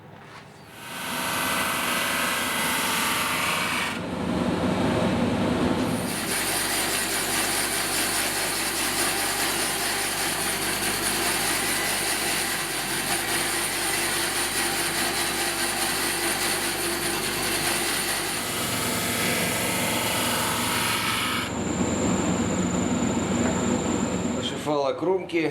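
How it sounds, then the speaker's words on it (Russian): A stained oak frame strip being power-sanded and then sawn into 50 mm pieces, a loud continuous machine drone with a harsh cutting whine through the middle section, close and sustained. "Сейчас ее шлифую и пилю на отрезки шириной 50 миллиметров."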